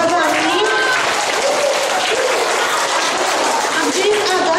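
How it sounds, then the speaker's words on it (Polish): Sustained applause fills the space, a school audience clapping steadily to congratulate a pupil on artwork displayed in the corridor at a primary school Teddy Bear Day event, with voices faintly mixed in. "Pogratulujmy mu i brawami"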